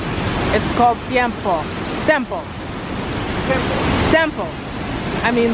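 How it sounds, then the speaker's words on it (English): Continuous rushing roar of a waterfall at La Paz Waterfalls & Gardens in Costa Rica, a steady broadband wash heard close up beneath people talking throughout. "This is the first of 5 waterfalls."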